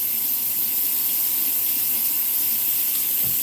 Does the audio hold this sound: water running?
yes